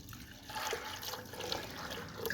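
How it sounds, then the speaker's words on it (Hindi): Water poured into a cooking pot of black chickpeas seasoned with salt, a steady splashing pour that runs continuously at moderate loudness with no voices. "ये मैंने पानी डाल दिया।"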